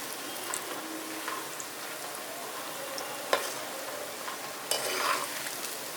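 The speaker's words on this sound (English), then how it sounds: "Let the pakoras fry on medium heat so they cook evenly from the inside." Pakora batter frying in hot oil in a frying pan over medium heat: a steady, even sizzle throughout, broken by a few sharper crackles and pops, with no voices.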